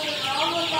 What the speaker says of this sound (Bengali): এখন দেখেন মুরগিগুলা কত স্বাচ্ছন্দ্য ফিল করতেছে